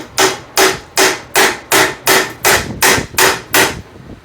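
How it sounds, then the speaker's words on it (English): A hammer strikes repeatedly to drive a ball joint into a steering knuckle on a 1991 Honda Civic, nine sharp, evenly spaced metallic blows, loud and close with no talk. "And I could just hit it with a hammer."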